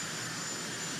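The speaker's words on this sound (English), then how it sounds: "That's the helicopter that always carries the President of America" The Marine One presidential helicopter lands at Winfield House in Regent's Park, London, its engine and rotor making a dense, continuous roar that stays steady and loud throughout.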